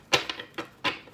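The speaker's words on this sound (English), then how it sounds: "these shuffle so nicely. They're nice and crisp." Crisp new playing cards being shuffled: a handful of sharp riffling bursts in quick succession, fairly close and clear with no talking over them.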